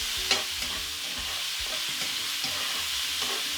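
Diced white onion frying in a pan, a steady broadband sizzle with a few soft stirring knocks and scrapes, close and continuous with no talking.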